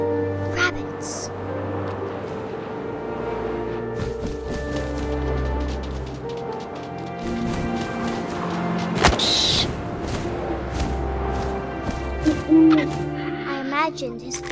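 Owl hooting in the game What Remains of Edith Finch, a brief hoot amid wind and rustling ambience, with a narrating voice over the scene.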